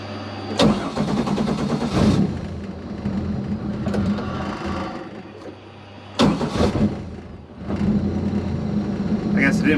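A supercharged Pontiac Fiero race car with an L67 V6 cranks and fires twice, each start bursting loudly into a rough idle that sags and dies, close by and with no talk.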